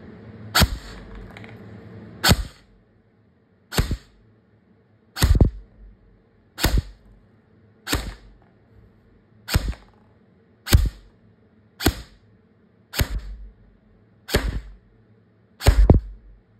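An LCT HK53 airsoft gun firing 0.2 gram BBs through a chronograph: eleven sharp, loud single shots, each a crisp crack with a short tail, evenly spaced about 1.3 to 1.5 seconds apart with quiet between them.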